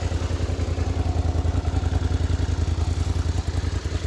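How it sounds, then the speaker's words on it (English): A Suzuki SV650 V-twin engine with an aftermarket exhaust idles steadily at just over 1,000 RPM with a loping, uneven thump and some mechanical clatter, close and fairly loud, with no voices. "So I've started the bike up."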